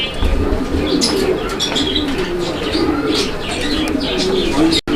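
Pigeons coo in low, repeated rolling calls, close by, with faint chirps and rustling around them and a brief dropout near the end.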